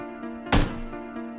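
A single gunshot in PlayerUnknown's Battlegrounds lands as a short, muffled thump midway through, standing out against a steady tonal hum of game sound.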